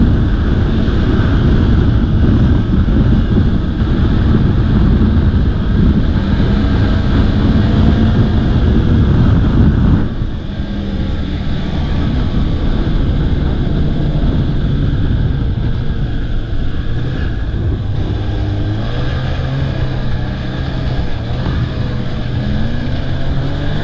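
A snowmobile riding a narrow connector trail near Old Forge, a loud continuous engine drone with wind buffeting the microphone, the pitch dropping slightly partway through as the machine eases off.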